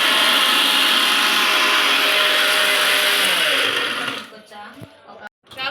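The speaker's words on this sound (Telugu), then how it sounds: "మిక్సీ వేస్తాను." A mixer grinder grinds biscuit powder and sugar for a cake at home, whirring loudly and steadily for about four seconds before winding down, followed by a couple of short knocks.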